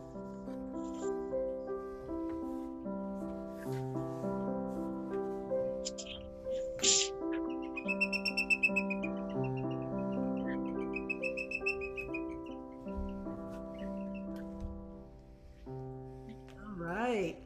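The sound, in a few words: bird flying by, imitated by improvising musicians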